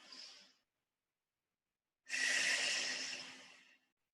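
Deep breathing during a Pilates stretch with a resistance band: a short breath, a pause of silence, then one long, audible exhale close to the mic, soft and airy.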